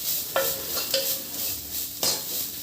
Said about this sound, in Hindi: फिर इसको मिक्स कर लूँगी